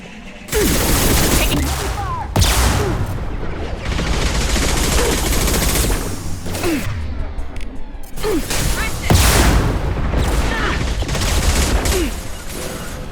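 Loud, dense gunfire and heavy shotgun blasts from a firefight in Mass Effect 2 Legendary Edition on Insanity difficulty, with sharp bursts throughout and speech over the shooting.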